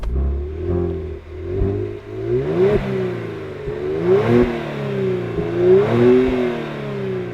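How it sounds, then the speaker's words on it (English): Heard from inside the cabin, a 2018 Kia Stinger's twin-turbo V6 revs repeatedly, pitch climbing and dropping with each gear change in a smooth, throaty drone. "this car sounds really good inside, not that good outside. Have a listen."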